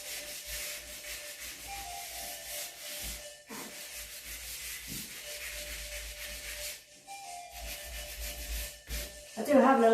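Hand sanding on a wooden doorframe gives repeated scratchy rubbing strokes in bursts with short pauses, fairly close and quiet, with a voice briefly at the end.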